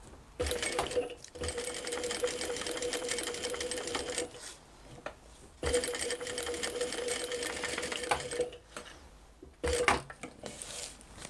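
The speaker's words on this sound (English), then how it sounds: "because I'm sewing black on black, I'm actually going to back stitch rather than pulling my tags through like normal" A sewing machine back stitching black vinyl for a cross body bag runs in steady mechanical bursts of rapid stitching, stopping briefly twice between runs, close and clear with no talking.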